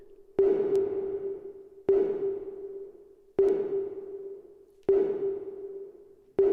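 A repeating synth note from the POLY 2 generative sequencer on an iPad, struck about every second and a half with reverb turned up, each hit ringing out with a long reverberant tail that fades before the next.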